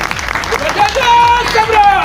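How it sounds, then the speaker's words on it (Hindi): An audience applauds loudly at a public welcome and address in Surat, celebrating the birth anniversary of Emperor Ashoka. The steady clapping fills the whole moment, with a few high whistles rising above it. "ऐसे लोगों के लिए जोरदार ताली बजाइए"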